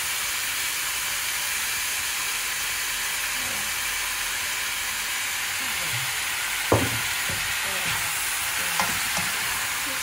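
Chicken and bok choy stir-frying with soy sauce and oyster sauce, a steady close sizzle and hiss with scattered utensil scrapes and clinks from stirring, no talking.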